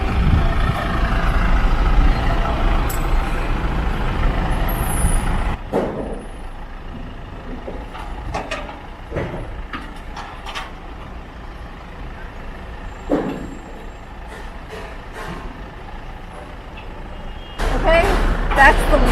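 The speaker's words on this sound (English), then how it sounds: "this is a tow truck" A tow truck idles and runs while delivering a 900 kg Syil X5 CNC milling machine, a steady low engine drone throughout with brief higher clanks and a short air-brake hiss, swelling again at the end; people talk nearby.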